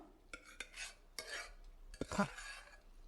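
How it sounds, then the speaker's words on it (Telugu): A spoon stirs cooked lentils into Andhra-style sambar in a pot, giving soft scraping swishes and a few light metallic clinks against the pot, quiet and close, with no talking. "పప్పు వేసాను కాబట్టి మొత్తం ఇలా మిక్స్ చేస్తున్నా నేను"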